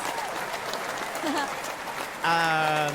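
A crowd claps and cheers in a dense wash of applause with voices mixed in, ending with a sudden loud tonal sound.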